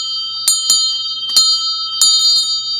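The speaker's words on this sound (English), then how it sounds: "and some really cool bells" Small bells are struck four times in quick, uneven succession, each strike bright and close with a clear ringing tone that keeps sounding between hits.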